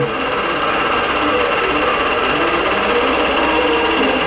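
Computerized longarm quilting machine running steadily as it stitches a design on a quilt, a loud continuous mechanical whir and rapid needle rhythm filling the whole stretch without pause, with no talk.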